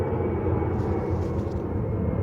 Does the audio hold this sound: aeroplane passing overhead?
yes